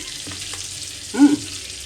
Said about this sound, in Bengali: তো এখানে আমি তেল অ্যাড করবো একটু।